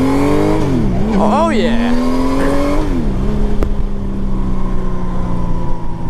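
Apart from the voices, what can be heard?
1998 Honda Valkyrie motorcycle engine revving with stock pipes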